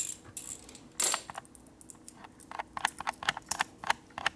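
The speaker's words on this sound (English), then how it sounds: "This one over here, I'm gonna take this nut off." Metal clicks and ratcheting taps come from a nut being worked loose on a 1964 Harley-Davidson XL Ironhead Sportster rigid chopper, irregular close mechanical ticks and clinks with no talk.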